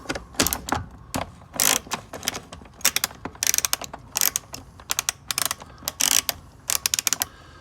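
A ratchet backs a bolt out of an RV compartment lock, giving close, rapid bursts of clicking that repeat in uneven runs with short pauses between them.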